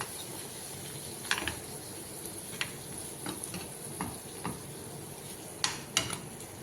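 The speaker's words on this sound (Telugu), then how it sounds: "చూడండి ఫ్రెండ్స్, కొబ్బరి పాలు వేసినప్పుడు కొంచెం మగ్గనిద్దాం ఫ్రెండ్స్." Mutton curry with coconut milk simmering in a pan, a soft continuous bubbling sizzle with scattered spoon stirs and clinks against the pan, fairly quiet and close, no talk.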